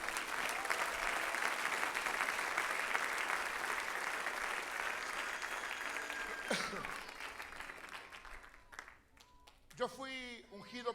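A church congregation in West Palm Beach applauds loudly during a service, with dense sustained clapping that tapers off after several seconds, followed by a voice speaking.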